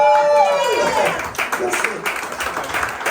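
Applause from a radio station's in-studio audience, clapping rising after a voice fades and continuing as a scattered, moderately loud patter of hands.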